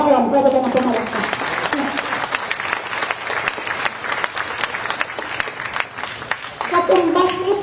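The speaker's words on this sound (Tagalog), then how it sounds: "Pwede ka na pumalakpak" An audience at the Quezon City 2022 State of the City address applauds steadily for several seconds, with a speaking voice heard at the start and again at the end over the clapping.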